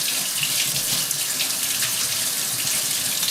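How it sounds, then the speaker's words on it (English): Cold tap water runs steadily over salt pork as it is rinsed in a kitchen sink, a close, continuous hiss-and-splash wash with no pauses and no voices. "First thing you do with the salt pork is you wash it in cold water to remove any of the excess salt."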